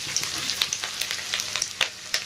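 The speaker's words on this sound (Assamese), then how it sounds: "এনেকৈ ভাজি আছোঁ, অলপ ৰঙচুৱা হৈছেগৈ।" Bay leaves fry in a pan with a steady, close hiss of sizzling oil, broken by a few soft pops and spatters across the short stretch, with no talking.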